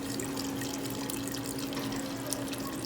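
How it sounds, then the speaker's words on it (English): Broth pours steadily into a pot of vegetable soup with potatoes, a continuous close liquid splashing over a low kitchen hum, no talking. "It is time to add in the broth."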